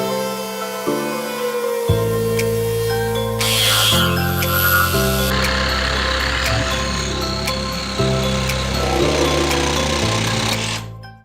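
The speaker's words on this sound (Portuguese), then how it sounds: "Para fazer esse desengrosso, eu vou usar aqui uma fresa de 5 centímetros de diâmetro." A wood router fitted with a 5 cm diameter bit and 12 mm shank surfaces a wooden board, a loud close motor whine that shifts pitch in steps as the cutter bites, with harsh chattering cutting noise before spinning down.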